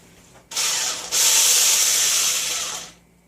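A whisk beating pure canned pumpkin in a bowl, a steady close scraping and sloshing that runs for a few seconds with no talk over it.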